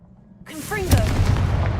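A fire spell fired in a video game bursts into a loud, close explosion with a booming low rumble that follows a brief whooshing cast sound, after a quiet start with a voice calling out over it.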